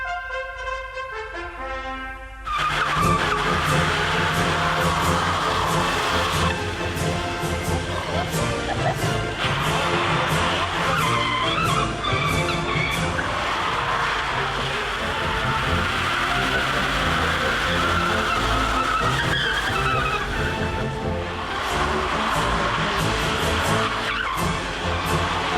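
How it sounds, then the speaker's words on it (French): Cars drift across a wet, empty car park, tires squealing and skidding almost continuously over a loud engine roar, with repeated bursts of sliding after a brief quieter start. "Ces conditions sont idéales pour le drift. Les pilotes n'ont pas besoin d'aller aussi vite que sur le sec pour déraper."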